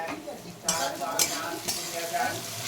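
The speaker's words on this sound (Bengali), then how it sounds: "আর চিচিঙ্গা ভাজাটা আগে করে নিচ্ছি। আমি একটু হলুদ দিয়ে দিচ্ছি।" Ridge gourd fries with turmeric in a pan, a steady close sizzle broken by several scraping stirs.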